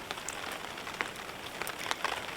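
Rain patters on a surface at a freezing mid-winter camp, a faint, steady hiss of droplets broken by scattered sharper ticks and taps, with no voices.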